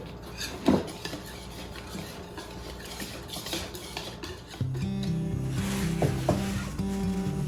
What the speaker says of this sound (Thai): ทีนี้ก็คนให้เข้ากันลูก